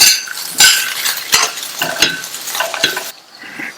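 Plantain curry with grated coconut stirred in a hot pan, loud sizzling broken by repeated sharp scrapes and clinks of a spoon against the pan, close and without talk.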